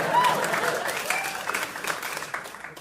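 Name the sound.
audience applause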